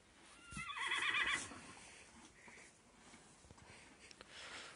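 Horses whinny loudly and close by during hay feeding, a long shrill neigh rising and falling in the first second or so, followed by quieter snorting, shuffling and faint outdoor noise.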